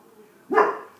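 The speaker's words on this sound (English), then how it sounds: "now while my dog is barking again" A dog barks once indoors, a single loud, close bark rising abruptly from a quiet room background and trailing off briefly.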